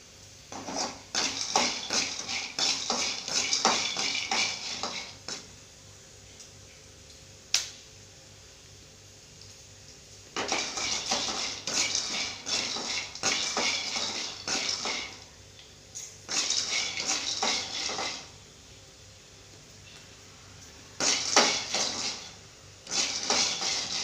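Sun-dried vathal vegetables fry in a pan with dense crackling and sizzling spatter, loud and close, coming in long bursts separated by quieter gaps, with an occasional sharp tap of a utensil and no voice.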